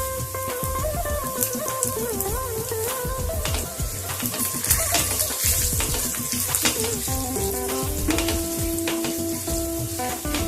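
Hing (asafoetida) dropped into hot oil for an Udupi-style green beans sabzi gives a steady sizzle and frying crackle, close and continuous, with occasional clinks of utensils and stirring.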